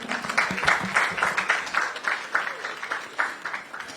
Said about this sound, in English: I don't like the way you just clap for her